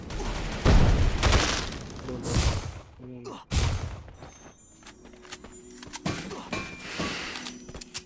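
Gunfire in the Free Fire battle royale game: several loud close shots in bursts, with sliding metallic game sounds in between and someone talking over the action.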